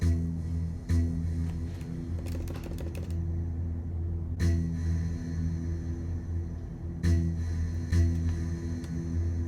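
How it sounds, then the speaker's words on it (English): Cinematic echo percussion effect in Logic Pro: sparse percussive hits ring out over a sustained tonal drone, each strike trailing into echoing decay, with a quick flurry of clicks early on. "Then I have this echo percussion,"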